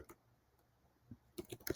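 Keystrokes on a computer keyboard while a ChatGPT prompt is entered, a few scattered clicks early on, then a quick burst of close, fairly loud taps at the end.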